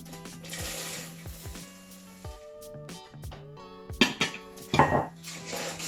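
Rice Krispies are stirred into melted marshmallows in a pot, with a spoon scraping and clinking against the metal in uneven strokes and a few louder knocks near the end, no voices.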